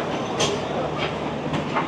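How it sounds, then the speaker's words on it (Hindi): The 17 Up Millat Express passenger train pulling into platform 2 at a Pakistani station, a steady loud rumble of rolling carriages with soft rhythmic clacks and brief higher squeals, heard up close. "17 up मेलत express finally platform number 2 पर आकर लग रही है"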